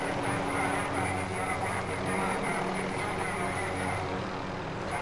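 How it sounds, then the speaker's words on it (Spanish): A helicopter drones as a continuous broad roar with a faint rhythmic rotor flutter, steady and fairly loud for several seconds. "¡Mira un helicóptero!"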